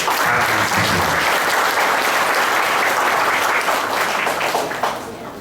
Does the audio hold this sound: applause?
yes